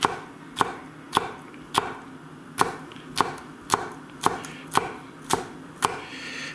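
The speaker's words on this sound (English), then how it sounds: "It's just an easy way to slice a pepper" Steady knife chops on a cutting board as a rolled-up pepper is sliced, about a dozen crisp, evenly spaced strokes, close and clear with no talking.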